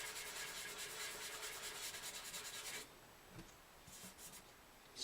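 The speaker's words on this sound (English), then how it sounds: "We're sanding dry here right now." Steady, rapid back-and-forth dry sanding by hand on the wooden top of a Gibson J40 acoustic guitar, close and quiet, then stopping and resuming in short strokes.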